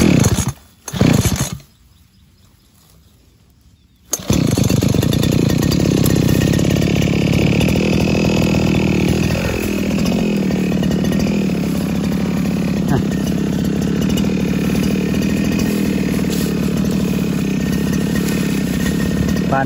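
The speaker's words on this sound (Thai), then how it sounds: "ด้วยเครื่องตัดหญ้านะครับผม" A gasoline grass trimmer engine roars loudly and steadily after a brief start, close by, buzzing continuously as it cuts.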